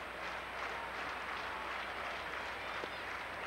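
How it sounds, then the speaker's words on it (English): A St. Louis baseball crowd at a 1997 Cubs–Cardinals game keeps up a constant distant roar of disapproval toward pitcher Steve Trachsel, a steady wash of mass voices with no distinct breaks. "with every pitch out of the strike zone, the fans here in St. Louis booing Steve Trachsel"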